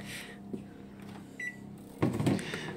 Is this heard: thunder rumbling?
no